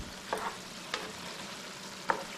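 Potatoes and smoked fish cooking together in a pan, a faint, low sizzle broken by three light, isolated clinks and taps of a utensil against the pan.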